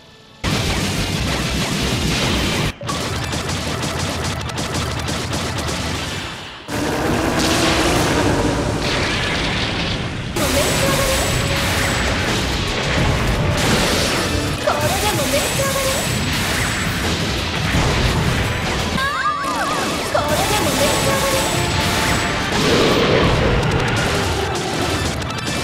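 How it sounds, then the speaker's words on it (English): A relentless barrage of explosions in the shoot-'em-up video game Deathsmiles, loud booms and crashes piling on top of each other with brief cuts between bursts. "Cue explosion montage."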